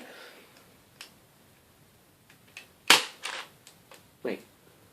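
A nerf gun fires with a single sharp snap near the middle, set among small clicks and handling noises from loading and aiming, close by with no talk.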